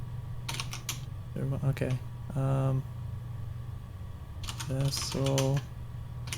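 Bursts of clicking keystrokes on a computer keyboard while setting up a game, close and clear, interleaved with someone talking over a steady background hum.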